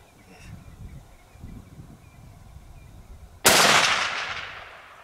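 Single sharp rifle gunshot on a hunt in South Africa, loud and close, ringing out after a few seconds of quiet outdoor ambience and faint rustling, with its blast decaying over a second or two.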